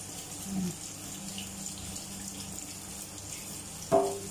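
Bitter gourd being washed under a running kitchen tap gives a faint, continuous trickle of flowing water, with a couple of brief soft knocks, one just before the end.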